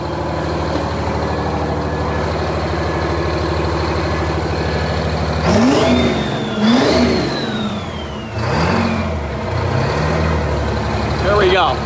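A rebuilt John Deere 6030 tractor with a twin-turbo V12, heard from the driver's seat, idles with a steady rumble and then revs hard several times, its pitch rising and falling through the gears close by and loud.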